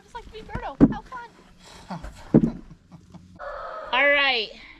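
Talk and clucking noises lead into a loud, drawn-out rooster crow close by at the end, in an Alaskan garden.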